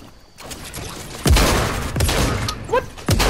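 Gunfire from a video game shooter, with a few scattered thumping shots and booms at moderate loudness against a busy game background.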